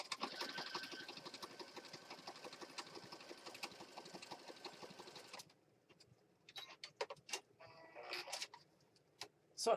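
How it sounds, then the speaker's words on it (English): A sewing machine stitches down the middle of a junk journal piece, running in a steady, fast mechanical patter for about five seconds before stopping, followed by scattered handling clicks and rustles of paper. "So we're going to stitch right down the middle of this piece."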